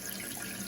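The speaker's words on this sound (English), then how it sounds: "So we're gonna turn this a quarter turn to turn the water back on." Water rushing steadily into a Kohler toilet tank as the fill valve refills it after the supply is turned back on, a constant close hiss of flow with no pauses.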